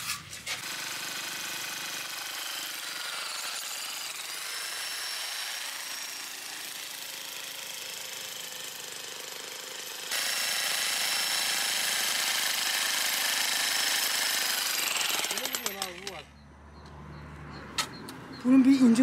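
Power chisel hammer working on a stone wall in a stone room being plastered, a continuous harsh rattling drone that shifts in intensity midway before stopping, with faint voices around it.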